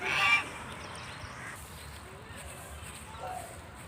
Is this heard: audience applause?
no